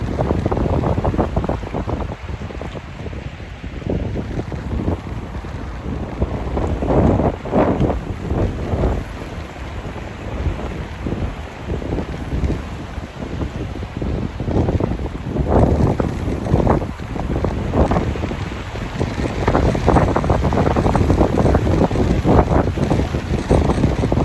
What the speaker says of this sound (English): Quite windy and the wind is quite strong.